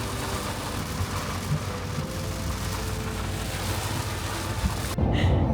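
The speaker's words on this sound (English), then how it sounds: "Oh my gosh, it's raining a lot." Heavy monsoon-like rain pours down on an RV during a travel day, a dense, loud, continuous wash of noise that drops away abruptly near the end.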